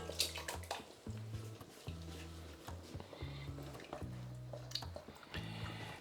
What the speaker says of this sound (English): I'll be adding some plum tomatoes now.